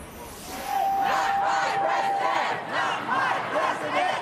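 A protest crowd chants in a Los Angeles street, many voices shouting in rhythmic unison, loud and fairly close, with a whistle sounding near the start and cheering rising between chants.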